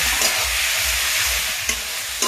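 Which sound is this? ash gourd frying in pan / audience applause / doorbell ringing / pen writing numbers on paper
ash gourd frying in pan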